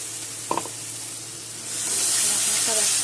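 Green chillies, poppy seed paste and white oil hit a hot pan together for a bhindi dish, a soft hiss that swells into a steady, louder sizzle partway through, with a brief clatter near the start.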